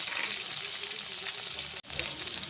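Steady sizzling of a tempering with chopped green chillies and onions frying in hot oil, close and continuous, with a brief dropout near the end.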